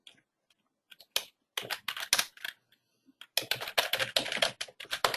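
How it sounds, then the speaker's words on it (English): Keys on a computer keyboard are struck in quick, close bursts of clicking, separated by short pauses, with a longer steady run of typing toward the end and no voices. "I can type in a subject."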